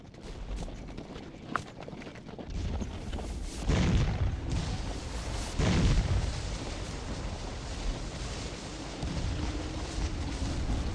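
Artillery shells and gunfire in the Civil War battle game Scourge of War: Gettysburg, with heavy booms bursting out midway over a continuous rumbling battle din.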